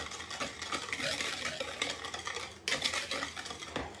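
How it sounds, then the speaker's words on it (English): Cornstarch being stirred into lemon pie filling in a bowl, a steady close scraping and swishing that runs continuously with a brief pause before resuming. "And I stir that around."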